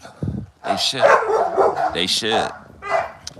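Bandog dogs barking in a few sharp bursts close by, mixed with someone talking over them.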